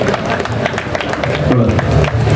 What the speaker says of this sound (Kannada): ಚಪ್ಪಾಳೆ ಹೊಡ್ರಿ ಎಲ್ಲರೂ